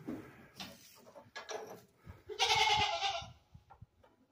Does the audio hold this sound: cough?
no